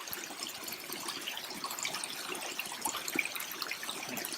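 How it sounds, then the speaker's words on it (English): Water trickles and splashes steadily through a filter into a cup, a continuous close-up pouring sound with small bubbly spatters throughout. "you can filter it straight into a cup."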